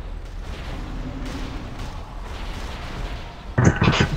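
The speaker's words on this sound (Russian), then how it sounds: "корабль под обстрелом! Заклинателя сюда! Пусть заткнет эти пушки!" Muffled booms of ship cannon fire from a video game roll under background noise, ending with a sharper, louder blast near the close.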